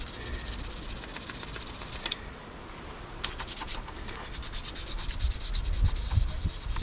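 Sanding a loosened terminal on a car's transmission by hand, a steady close scratchy rubbing in repeated strokes with a brief pause partway through.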